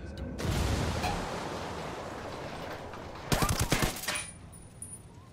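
Hand grenade explosion in the video game Ghost Recon Wildlands, a rushing noisy blast followed by a burst of crackling impacts, fairly loud and alone without talk.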